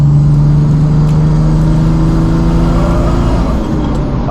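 A 1995 Mercedes E300 turbo diesel on the road, downshifting to fourth and pulling out to merge. A loud, steady engine drone with a strong low hum sits close inside the cabin, easing slightly near the end.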